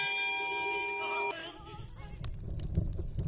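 A bell rings in The Procession to Calvary video game: a clear sustained chime tone sounds for just over a second, then cuts off, giving way to rustling, clattering game noises.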